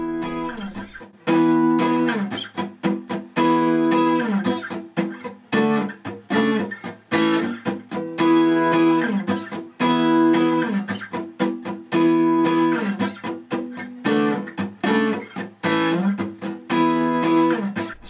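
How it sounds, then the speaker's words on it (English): Electric guitar strumming an intro with downstrokes, upstrokes and muted dead strokes through a delay pedal, a loud choppy rhythmic pattern of chords with echoing repeats, no voices. "If you couple the downs, the ups, and the dead strokes with the delay pedal that the guitarist is using, you get this iconic intro."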